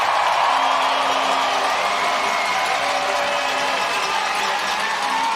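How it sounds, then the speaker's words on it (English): A Canadian home crowd at a women's rugby sevens final in Langford roars after a try: a sustained, loud wall of cheering and whooping fills the whole stretch without letting up. "The Canadian crowd is on their feet. They're roaring for Bianca Farella."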